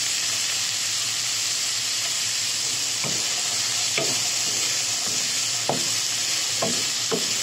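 Carrots and beans stir-fry in a pan with a loud, constant sizzle, while a spatula scrapes and knocks against the pan several times, nearby.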